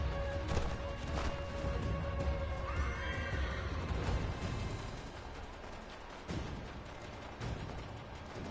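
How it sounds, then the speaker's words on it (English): A horse in the Assassin's Creed III video game neighs with a rising then falling whinny in the middle, over hoof clip-clops, thuds and a steady game soundscape. "You killed my horse!"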